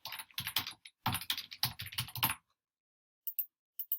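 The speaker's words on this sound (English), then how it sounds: "I just better type it in here" Typing on a computer keyboard, entering answers for a technology quiz: two bursts of rapid, close clicking key taps, then a pause and a few isolated clicks at the end.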